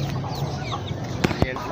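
Chickens cluck softly amid the general bustle of a bird market, with a couple of short, sharp bird calls cutting through a busy, murmuring background.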